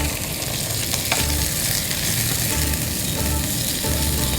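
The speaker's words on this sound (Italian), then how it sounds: "Allora andiamo a mettere il pesce in padella insieme al nostro" Fresh fish and cherry tomatoes fry in a pan with a dense, even sizzle that stays loud and close throughout, with faint stirring and no voices.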